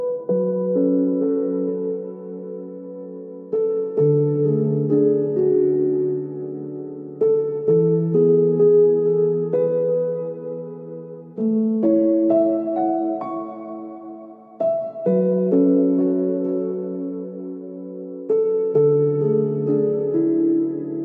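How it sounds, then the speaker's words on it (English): A lofi piano loop using the Logic Pro Noir Piano preset plays a soft two-bar melody of mellow chords and notes, repeating in evenly spaced phrases, clean and alone. "Then I come up with this piano melodies."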